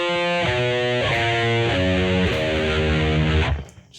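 A distorted electric guitar plays a short riff pattern as a scale, about half a dozen sustained notes stepping one after another at a slow even pace, then fading out at the end.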